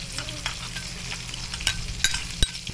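Crispy garlic chips with a little salt are stirred in a hot pan, giving a steady close sizzle broken by several sharp scrapes and clinks of the utensil against the pan.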